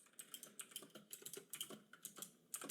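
Rapid, uneven clicking of keys being typed on a computer keyboard, close and fairly quiet, in bursts with brief pauses and no voices.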